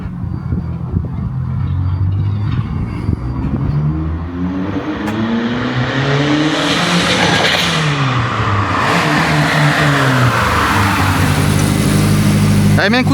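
A heavily modified car engine running about 0.6 bar of boost is revved hard with repeated throttle blips. The loud, close engine note climbs and falls in pitch, and voices talk around it.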